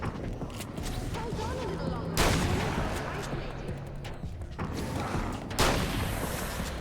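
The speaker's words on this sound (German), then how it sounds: "Alle auf einmal wegblasen mit einer Flashbang" A flashbang goes off in Alan Wake's American Nightmare, a sharp bright burst followed by another blast a few seconds later, set against a dense, noisy game soundscape with someone talking.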